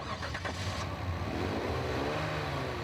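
A Kia Amanti with a 3.8-litre V6 and five-speed automatic accelerates hard, its engine note climbing steadily in a loud, continuous surge heard from nearby.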